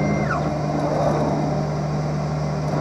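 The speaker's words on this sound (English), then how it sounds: "So now it's dropping down onto the bevel wheel and getting the knife-like bevel placed on there" A lens edging machine grinds a knife-like bevel onto a prescription Crizal Sapphire 360 lens for an Oakley 5079 Carbon Plate frame, a steady mechanical whir with a constant low hum throughout, close and continuous.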